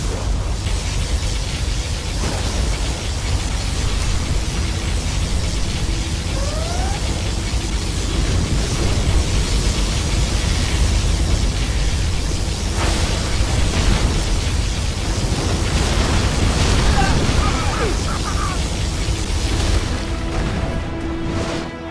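Particle cannon blast from the Generals Zero Hour strategy game: a sustained, loud roaring wash of booming, noisy energy that fills the whole stretch without a break, with faint tonal whines and sweeps under the blast.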